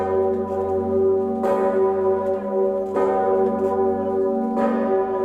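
A giant nine-ton cathedral bell in Krakow rings in slow, resonant strokes about every one and a half seconds, each strike blooming over a sustained humming drone of overlapping tones.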